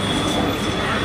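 A metro train runs close by, its broad steady rumble with a faint rail whine filling the short moment at near, constant loudness.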